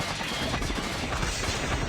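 Rapid, dense gunfire from the Call of Duty Mobile battle royale mode, a loud continuous burst of shots and crackle with no pause for the whole moment.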